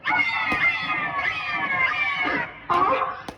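A cat drinking milk meows in a string of drawn-out, rising and falling cries, loud and close, with a short pause before a final pair of meows.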